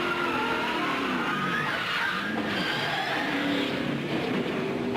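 During the 2002 New England 300 NASCAR race, a stock car spins a full 360 with its tires squealing and skidding under the steady roar of racing engines, with no talking.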